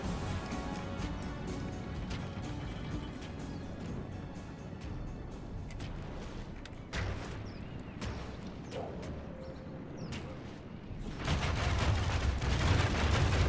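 Video game troops fire musket volleys with a faint crackle of scattered shots over a dense, steady battle din. A louder, fuller surge of fire rises near the end.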